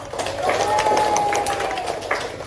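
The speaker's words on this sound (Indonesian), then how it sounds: "Oke, tepuk tangan." Students clapping together in a school classroom, a continuous dense patter of hands lasting a couple of seconds, fairly close, with voices mixed in.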